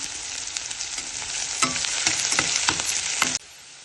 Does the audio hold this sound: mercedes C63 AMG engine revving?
no